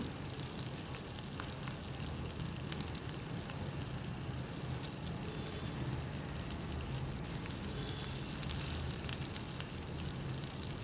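Chopped tomato masala fries softly in oil for a katla fish curry, a steady, fine, hissing sizzle throughout with no talk.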